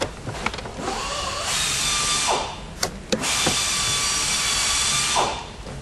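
A power drill driving screws to mount a solar charge controller on the back wall inside an Airstream Avenue van, with two sustained whirring bursts of several seconds each, close and loud, separated by brief clicks.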